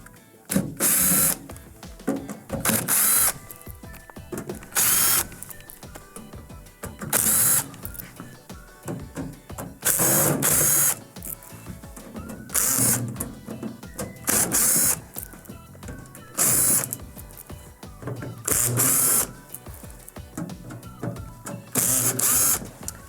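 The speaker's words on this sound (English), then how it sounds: "we're going to be removing the 9 screws on the very back. These screws are all number 2 Phillips." A powered driver backs out number 2 Phillips screws from the rear panel of a Whirlpool microwave, about a dozen short whirring bursts separated by pauses and small clicks of handling, close and loud with no talking.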